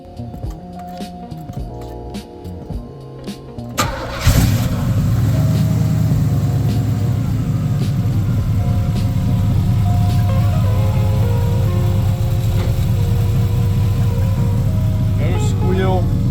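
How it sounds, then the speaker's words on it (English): A 1984 Chevrolet Camaro, just fitted with a new valve cover gasket and belts, cranks and catches after a few seconds, then settles into a loud, steady, rumbling idle close by with no belt squeal. "I'm gonna start the car. We're gonna see how it sounds now."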